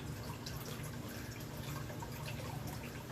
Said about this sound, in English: pour in some water